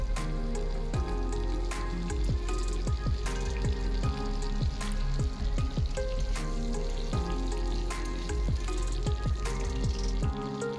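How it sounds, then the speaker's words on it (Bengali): Cauliflower pieces fry in oil left from frying paneer, making a steady sizzle and scattered pops. Prominent background music plays over them. "ওই তেলের মধ্যে আমি ফুলকপিটাকেও ফ্রাই করে নেব"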